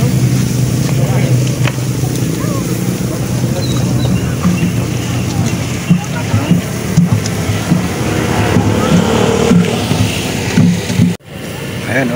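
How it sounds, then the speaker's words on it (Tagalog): Steady outdoor traffic of cars driving along a bypass road and parking near a roadside grilled-chicken eatery in the Philippines. Engine and road noise run continuously under a busy crowd, with a brief dip near the end. "Ito yung mga sasakyan na pumaparada dito."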